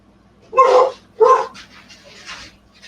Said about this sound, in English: Now my dogs are barking like someone's at the door.